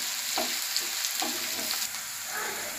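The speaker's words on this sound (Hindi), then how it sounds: "एबे कटा प्याज दे दबा। प्याज को टिके भाजी नवा।" Chopped onion frying in a pan for a kohlrabi bharta, a continuous close sizzle broken by a few quick stirring clinks and scrapes, no talking.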